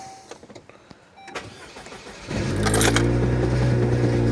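Saab 9-3 turbo engine cranks and fires up partway through, settling into a loud, steady idle with a hint of exhaust leak, preceded by keys jangling and a few faint clicks inside the car.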